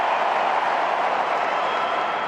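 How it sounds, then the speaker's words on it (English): A large stadium crowd at the 2024 US Open women's final cheers and applauds, a dense, even wash of clapping and voices holding steady throughout. "Listen to the crowd."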